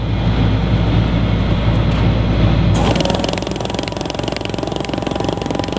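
A Wonderweld Supa Veya conveyor set at a 45-degree angle runs with a steady mechanical hum. Partway through, the sound shifts to a brighter, rapidly pulsing whir that stays continuous and fairly loud to the end.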